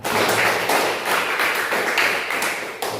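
Students in a classroom applaud a classmate with a dense, continuous patter of clapping hands, fairly close and steady in intensity throughout.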